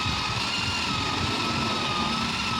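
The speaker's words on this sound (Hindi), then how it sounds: "काफ़ी अच्छी पावर दिखा रहा है ट्रैक्टर" A homemade tractor engine runs steadily under load, pulling hard with a dense continuous roar and whine, loud and close throughout without speech.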